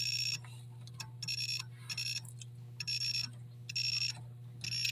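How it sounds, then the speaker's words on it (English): Repeated high-pitched electronic beeps from a logic probe, in bursts of varying length, over a steady low hum, with faint handling noise between tones, while probing a Williams System 3-6 pinball driver board lamp matrix. "So just got my logic probe. Just start probing away here."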